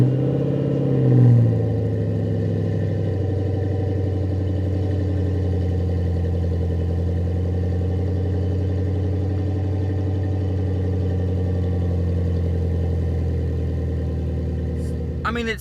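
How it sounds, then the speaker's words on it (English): A Ford Mustang's engine cold-starts with a brief rev, then settles into a steady, slightly muffled idle that drones on evenly and loudly to the end. "it's time for the very first official cold start on the Ford Mustang. Let's hear it."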